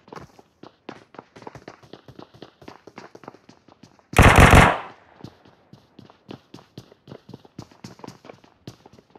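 A loud burst of machine gun fire in a video game, roughly half a second of rapid shots, standing out from continuous light footsteps and clicky game sounds before and after.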